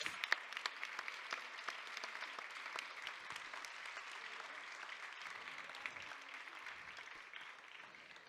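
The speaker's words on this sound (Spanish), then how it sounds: "Un aplauso para estos auténticos protagonistas." Faint, distant applause from an audience at a campaign launch event, with many sharp individual claps forming a steady patter that slowly thins out near the end.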